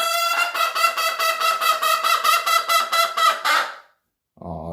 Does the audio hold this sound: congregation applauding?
no